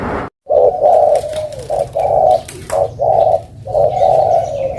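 A dove coos repeatedly in a steady rhythm of low, rounded phrases, close and fairly loud, with brief pauses between calls.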